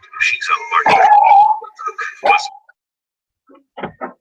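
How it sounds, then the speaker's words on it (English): A dog barks and yips close by in a short excited burst, a few sharp barks followed by a pause and two more brief yelps, with no other sound behind it. "Sorry, my dog's going a little crazy there."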